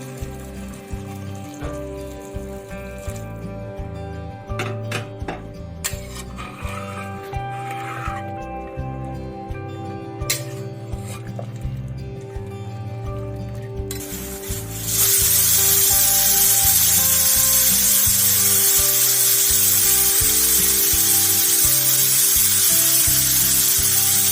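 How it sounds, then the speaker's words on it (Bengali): Hot water poured into a pan of Bengali mutton curry, a loud rushing hiss and sizzle that starts suddenly midway and holds steady after a quieter stretch of bubbling and low hum. "এবারে আমি ঝোলের জন্য গরম জল দিয়ে দেবো"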